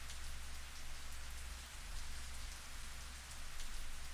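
Steady rain pours down without a break, a dense even hiss of drops on surfaces used as a sound effect in the Higurashi visual novel, with no voices.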